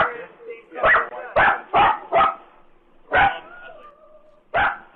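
Dogs let out a string of sharp, loud barks in an irregular rhythm, close by, with quiet gaps between the bursts.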